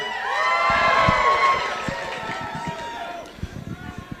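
An audience at a stand-up comedy show cheers and shouts loudly in a rising wave that fades, with footsteps thumping beneath, then scattered claps and cries trailing off.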